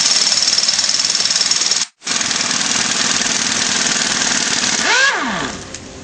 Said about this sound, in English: Remove the center bolt with a 13mm socket.